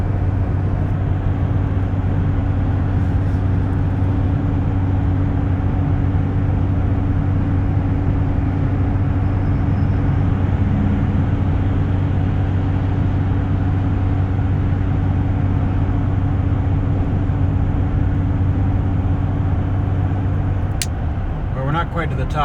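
A 2020 Chevrolet Silverado Duramax diesel pulls a trailer uphill at highway speed just under 2,000 RPM, giving a steady, loud in-cab engine drone with constant low humming tones and road rumble that barely change for the whole stretch.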